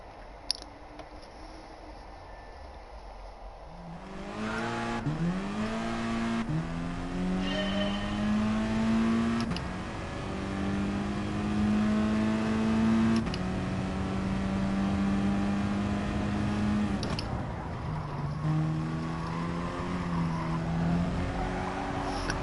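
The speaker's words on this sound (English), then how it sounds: "we'll rev the nuts out of 5th gear here over the line" A car engine is revved hard in 5th gear, its steady loud drone climbing in pitch through several long pulls with brief drops between them as the revs settle and build again.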